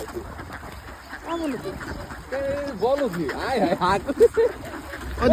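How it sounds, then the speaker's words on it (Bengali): Ducklings and larger ducks quack repeatedly as they are fed, bursts of close calls rising and falling while a person talks over them. "খাবার দেওয়ার সাথে সাথে ছোট হাঁসগুলো খেয়ে ফেলে এমনকি বড়গুলো সামনে দিলেও বড়গুলা খেতে পারে না"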